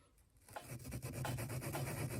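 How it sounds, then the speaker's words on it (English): Gritty rasping of lapping compound grit rubbed back and forth on a piece of steel, starting faint and becoming a steady, close scraping rhythm. "I put a little lapping compound on a piece of steel"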